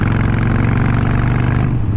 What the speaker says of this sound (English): you just listen to that exhaust roar from the short shots